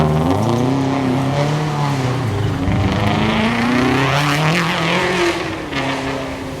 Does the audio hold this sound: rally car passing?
yes